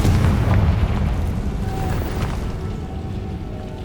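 Confringo and Bombarda spells explode in the Hogwarts Legacy game, with a heavy boom at the start that rumbles and fades, followed by smaller bursts and a soft magical ring.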